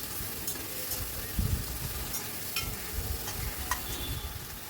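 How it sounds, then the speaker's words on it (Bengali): Chopped tomato, ginger-garlic paste and salt are stirred in a pan, a quiet steady sizzle broken by a few soft scraping and tapping strokes. "এবার একটু নাড়াচাড়া করে নিচ্ছি"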